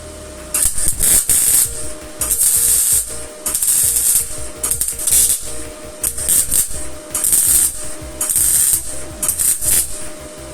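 MIG welding on very thin sheet metal with a Stahlwerk MIG200St welder, laid down in short tack bursts: a crackling, sizzling arc starts and stops in repeated pulses of about a second each, close and loud, with no talking.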